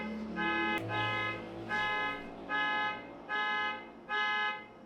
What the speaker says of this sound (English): That one car alarm has been going off like several times a day.